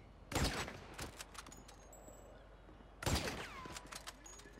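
Two heavy bursts of gunfire from a Grand Theft Auto 5 firefight with guards, each a loud broadband crack with a trailing echo, separated by a few seconds of quieter scattered shots and ambience.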